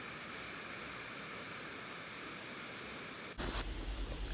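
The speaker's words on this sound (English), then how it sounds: "The ocean looked like a bubbling cauldron. Some of these waves were huge." Huge storm waves crash on the Canary Islands coast near Corralejo, a steady roaring surf wash building to a heavy, booming impact near the end.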